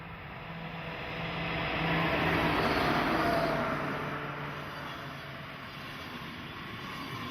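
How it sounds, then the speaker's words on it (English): A Swiss Federal Railroad Eurocity passenger train with dome cars rumbles past at moderate distance, a steady broad roar swelling in the middle and easing off, with a low hum underneath. "Here comes the Eurocity with its lovely dome cars of the Swiss Federal Railroad."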